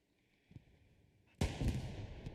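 Artillery fire in the video game Hell Let Loose: a faint distant thump, then one loud close cannon blast with a rumbling tail that lingers to the end.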